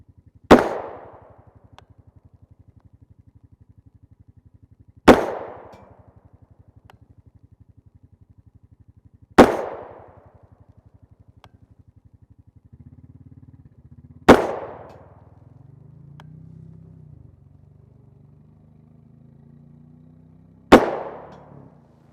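Five sharp, loud rifle shots from a 5.7x28mm firearm with an 8-inch barrel and a Yankee Hill single-port QD muzzle brake ring out about every four to five seconds outdoors, each cracking and then decaying, with a low engine-like hum beneath.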